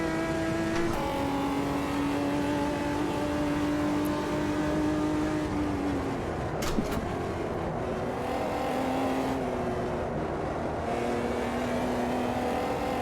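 A 1999 Omega Stock Car engine in the AMS2 racing game revs steadily and loudly through the whole stretch, its pitch rising and dipping as the car comes on the power out of tight turns.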